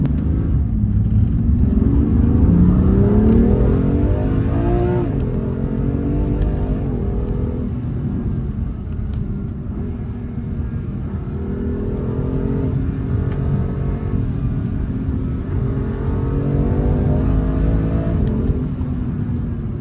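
A BMW M2 CS is driven at speed, its engine droning steadily with rising and falling revs as gears change, loud and close throughout with road rumble underneath.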